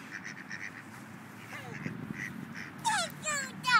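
Ducks quack and honk while being fed outdoors, a few short calls rising near the end over steady background noise.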